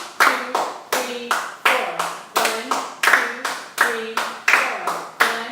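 Students in a classroom clap a rhythm exercise: sharp, loud group claps in a steady repeating pattern, each followed by a brief voiced response, with about a dozen evenly spaced hits.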